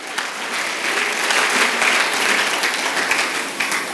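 A church congregation applauds together at a worship service, a dense, steady clatter of many hands that holds near and loud for the whole span with no speech over it.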